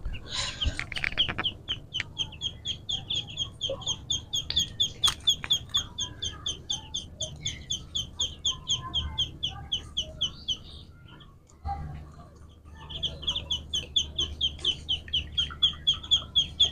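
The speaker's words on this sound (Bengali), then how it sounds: "এখানে আমার বাচ্চা আছে হচ্ছে চীনা হাঁসের বাচ্চা হচ্ছে 12 পিস" Twelve Chinese duck ducklings peep and cheep in rapid, overlapping bursts, a steady chorus of young birds calling close by, with a brief lull near the end.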